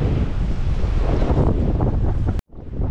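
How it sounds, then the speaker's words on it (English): Strong wind buffets the microphone on a causeway to Granite Island by choppy sea, a loud steady roar with a sudden brief dropout before it gusts back in. "That's the wind pushing me along again."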